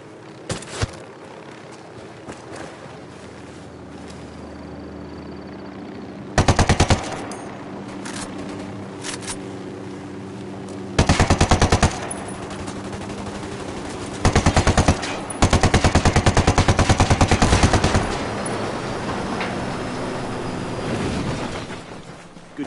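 Repeated bursts of automatic gunfire in the video game Ghost Recon Wildlands, loud and close, in several clustered volleys separated by quieter stretches of steady background ambience.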